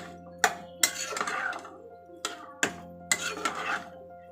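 Potatoes for aloo posto stirred in a pan, a spatula striking and scraping the metal in about half a dozen close, sharp clinks separated by brief gaps, with no voices.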